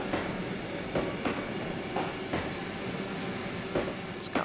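A train runs along track in a railway video game, with a steady rolling rumble broken by regular clickety-clack wheel beats on the rail joints, heard alone without voices.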